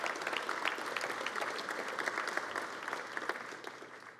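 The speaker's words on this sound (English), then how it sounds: "You absolutely deserve to give yourself a round of applause" Sustained applause fills a legislative chamber during a governor's State of the State address, a dense wash of clapping with scattered sharper claps standing out, steady throughout.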